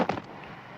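A special-effects blast goes off on the set of Star Wars: The Empire Strikes Back, a short sharp burst with a crackling flash of noise that quickly fades into a low, steady rumble.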